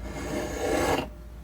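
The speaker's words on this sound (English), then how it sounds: "So now we can use the spoke shave to take off." A spokeshave pulls one rasping shaving stroke across a piece of wood while rounding over its corners, a close, dry scraping that lasts about a second and then stops.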